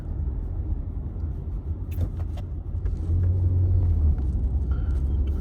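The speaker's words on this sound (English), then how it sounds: "that fire truck was going slow as shit" A fire truck driving slowly past on a road, a steady low engine rumble that swells slightly as it nears, with faint higher mechanical noises above the drone and no talking.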